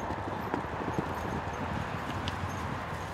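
Several horses walk on hard ground, their hooves clip-clopping in a steady, overlapping patter against a constant outdoor background hum.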